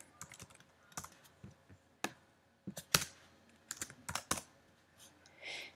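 Code being typed on a computer keyboard in an Xcode tutorial: close, quiet, irregular key clicks in short bursts and pauses, with no talking.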